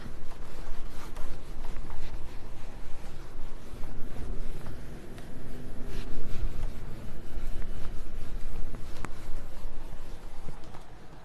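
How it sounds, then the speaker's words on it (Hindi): A classroom board is erased and written on, giving continuous scratchy rubbing strokes with irregular taps throughout, steady and close, with no talking. "एक मिनट में इसे मिटा के लिखता हूं।"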